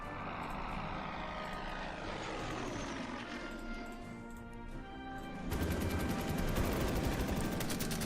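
Bomber aircraft and gunfire in the World War II strategy game Order of Battle, a dense, continuous wash of engine drone and rattling fire that grows louder and busier partway through.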